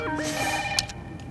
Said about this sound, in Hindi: फोन बज रहा है, सुनाई नहीं दे रहा है तुमको?